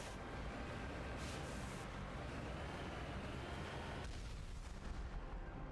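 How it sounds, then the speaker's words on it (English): Gunfire in the Mass Effect video game, a steady dense barrage of booming low shots and rumbling explosions that runs continuously and stays loud throughout, with no voices. "Who's shooting where?"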